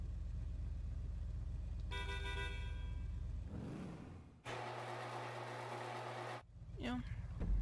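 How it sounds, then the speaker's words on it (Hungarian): Car horns being tried out in GTA V Online: a harmonic horn tone sounds, followed by a long, loud, steady honk and a final short toot over low engine idle. "Dudát azt megnézem, hogy mik vannak."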